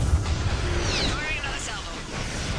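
In the Mass Effect 3 video game, missiles launch with a loud rushing whoosh and rumble. Rising whistling streaks cut through a heavy low roar, and a voice speaks over it.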